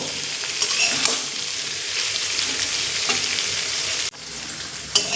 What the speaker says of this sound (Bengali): চিংড়ে মাছ আলু আর কুমড়ো দিয়ে আবারও দু থেকে তিন মিনিট মতো একটু কষিয়ে নেব